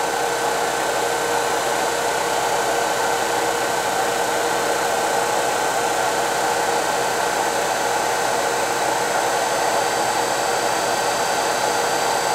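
Electric motor in an EV conversion spinning a standard-weight flywheel at steady RPM, a loud, even whir with high tonal whine bands held constant throughout, no voices.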